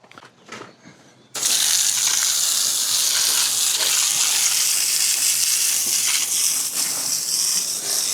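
Water gushes loudly from a hose or tap outdoors by a cart barn to wash something down, a sudden start after a brief quiet moment, then a steady close hissing spray for the rest of the stretch.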